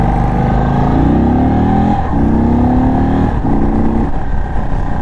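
An Indian Sport Chief RT motorcycle on a test ride, its engine droning loud and steady with rising revs that dip briefly at gear changes.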